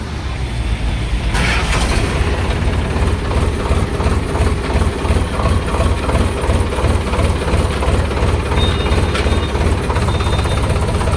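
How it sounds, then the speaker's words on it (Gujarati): A loud, close tractor engine chugs steadily in a rapid low rumble, running continuously throughout with no voices. "આપણું કરી ટ્રેક્ટર ચાલુ"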